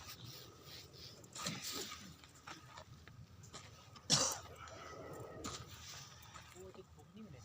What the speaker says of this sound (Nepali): यो सुतिया मान्छे कसरी खोक्छ कि म त अचम्म लाग्छ